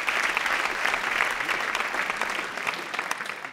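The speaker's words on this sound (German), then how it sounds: "ganz herzlichen Applaus" Warm applause from an audience in the Baden-Württemberg state parliament, dense continuous clapping that holds at an even level from start to finish with no voices over it.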